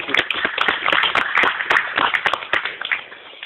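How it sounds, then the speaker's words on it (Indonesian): Applause for Pak Reza at a gathering in Aceh, a lively patter of clapping hands with distinct sharp claps rising and thinning over a few seconds. "Tepuk tangan buat Pak Reza."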